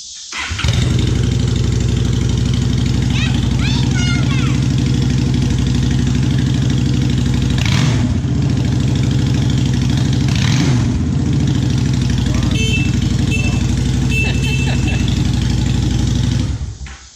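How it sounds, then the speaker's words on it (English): A Honda Shadow Phantom motorcycle with a custom exhaust idles loud and close, a deep steady rumble that runs the whole length, with a few brief blips of revving partway through. "Turn the bike on."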